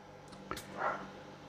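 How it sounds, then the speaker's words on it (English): A dog barks somewhere off in a garden, giving one or two short, faint yaps heard at a distance against quiet background hiss. "my dog's barking at somebody"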